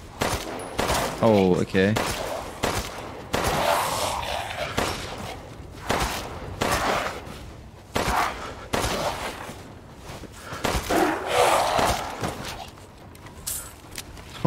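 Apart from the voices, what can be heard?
handgun gunfire in the video game Resident Evil Village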